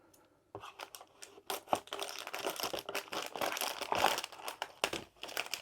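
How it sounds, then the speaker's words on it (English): Plastic bag from a Star Wars diamond art kit being cut open and handled, close crinkling and rustling with irregular snips and crackles, fairly quiet with no talking. "And we'll cut the bag."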